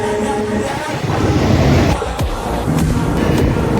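An Intercity Express train with ICF coaches and a WAP-4 locomotive rushes past at speed, a loud, steady rumble of wheels and rails with clattering bursts as the carriages go by, no voices.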